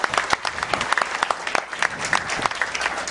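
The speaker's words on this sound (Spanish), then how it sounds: "Un aplauso a toda la comunidad académica de Ciencias Económico-Administrativas por este gran esfuerzo realizado." An academic ceremony audience claps for the economics and administration community, sustained dense applause from many people, close and steady for the whole stretch with no speech over it.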